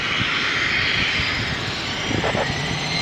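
A Cessna Citation 560XL business jet taking off from runway 27R roars with a steady, loud engine rush and whine, with distant radio talk faintly underneath.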